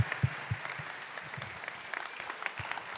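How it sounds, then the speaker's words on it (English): A seated audience at a Medal of Honor community forum breaks into sustained applause for Medal of Honor recipients, a dense patter of hand claps with scattered louder claps and no talk over it. "How about a round of applause for our Medal of Honor recipients?"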